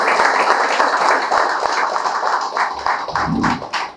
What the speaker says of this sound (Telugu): లహరికి ఒకసారి గట్టి క్లాప్ చేద్దామండి